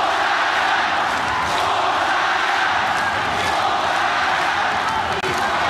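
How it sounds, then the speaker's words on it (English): A sold-out arena crowd at an MMA cage fight in Manila roars steadily and loudly, a dense wash of cheering and shouting that holds throughout. "Good reversal by Khan, listen to the crowd."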